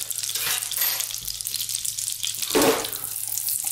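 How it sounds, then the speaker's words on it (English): Butter and ghee melting over a low flame in a pan, giving a soft continuous sizzle with a louder burst of frying hiss partway through, close by and with no talking. "Let's just let that melt. We're not going to cook this, really hard fried. We're going to kind of gently saute it."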